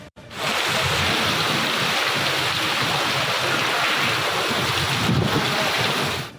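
Heavy rain pours steadily during a storm in Balochistan, a dense, continuous roar of falling water and wind that stays loud and unbroken throughout.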